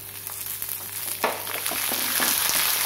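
Dried red chillies and shallots frying in hot oil, a close hiss of sizzling that swells after a sharp clatter as the shallots go in, with a few light knocks and no talking.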